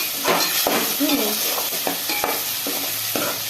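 Tomatoes fry for a fish curry in a pan, giving a steady close sizzle broken by a few scraping stirs and light knocks of a ladle.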